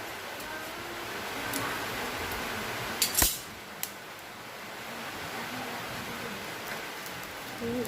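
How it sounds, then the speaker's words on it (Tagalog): Steady rain falls outdoors during a meal at Suba, a broad, even hiss lasting throughout, broken by a sharp clatter of dishes or cutlery near the middle, with faint voices in the background. "May ulan."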